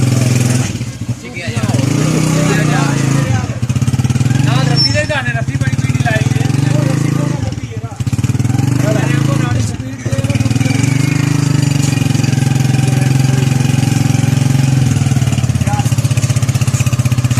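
A motorcycle engine idles and runs steadily throughout in a Punjab village, a low continuous rumble with people talking over it.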